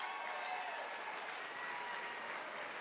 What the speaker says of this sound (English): Y'all clap for Miss Pack.